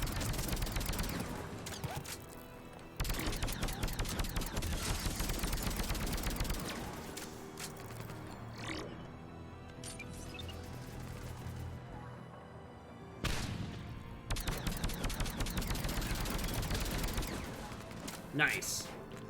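Turret gunfire in the Mass Effect video game: dense, sustained bursts of rapid automatic shots in long stretches, broken by short pauses, with a voice occasionally heard under the shooting.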